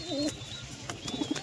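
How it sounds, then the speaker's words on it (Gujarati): A female pigeon coos close by in a few short, rolling throaty notes, with faint high chirps and light background rustling. "આ કબૂતરની મિત્રો એ માદી છે."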